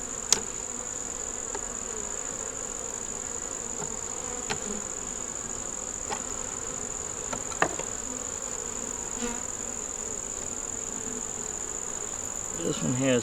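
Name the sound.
honeybees buzzing in a nuc brood box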